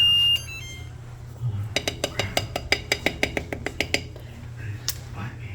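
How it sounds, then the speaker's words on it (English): A kitchen timer goes off during baking, giving a quick run of about a dozen sharp, evenly spaced beeps. The beeps sit over low background hum, and a voice is heard briefly at the start. "That's just my timer going off."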